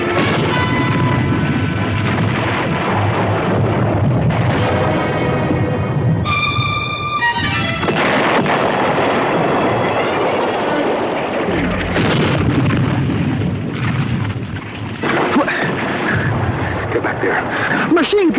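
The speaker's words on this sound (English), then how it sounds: "Machine gun!" Machine gun fire and heavy explosions in a World War II combat drama, loud and continuous, dense with blasts and bursts, while voices shout over the battle.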